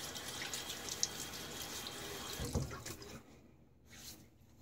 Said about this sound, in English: Throw a little bit of water on my face.